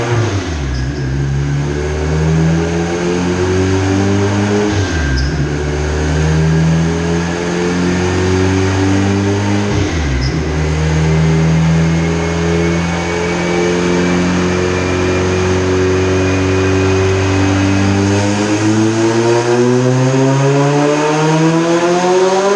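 A 475-horsepower car engine screams at high revs near 7,500 rpm, loud and close, climbing in pitch through three repeated pulls separated by brief dips, then holding a long sustained howl.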